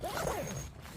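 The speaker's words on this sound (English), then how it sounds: "I can zip the net up and get the net zip anyway" Zipper on a camping net being pulled shut, one quick continuous rasping zip close to the mic, lasting under a second with no talk.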